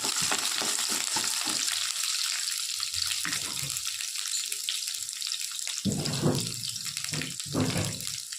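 Ingredients for a crunchy chana dal dumpling curry fry in a pan with a steady, dense sizzle, broken by a few louder bursts of crackling and spattering toward the end, with no voices.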